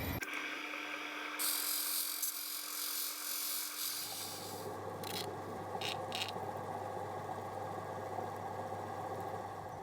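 Opal being sanded on 3000 grit pads on a lapidary machine: a steady motor hum and a continuous wet scraping rub, with a brief high hiss early on and a few short bursts of grinding in the second half.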